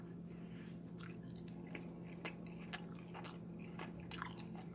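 Someone bites and chews a dense, soft 100% whole wheat sourdough bread, giving scattered close crunchy bites and soft chewing clicks over a steady low background hum.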